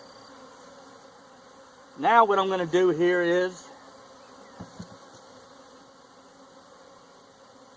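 Honey bees drone faintly and continuously inside a hive while someone speaks briefly over them, followed by a couple of light taps.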